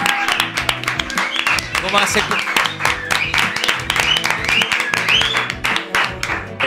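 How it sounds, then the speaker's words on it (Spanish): A live audience at a show applauds and claps continuously and fairly loudly, while people talk and shout over it. "¡Fuerte el aplauso! ¡Bravo!"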